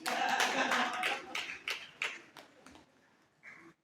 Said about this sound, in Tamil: கைத்தட்டுங்கம்மா.